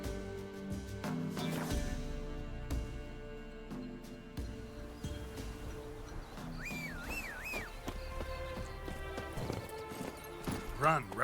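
Hoofbeats of a horse galloping in The Witcher 3 on PS5, a steady clip-clop rhythm running under game music and a man's speech, with brief whinnies near the end.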